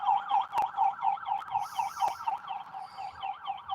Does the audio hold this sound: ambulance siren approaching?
yes